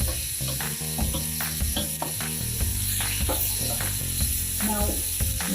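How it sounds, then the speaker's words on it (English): Garlic and tomatoes drop into a pan of softened onion for a pirandai (veldt grape) curry, setting off a close, rattling sizzle with scattered crackles that continues throughout. "now it's the right time to put the garlic and the tomatoes"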